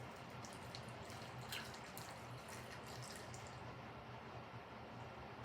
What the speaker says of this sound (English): we're going to be adding 2 cups of warm water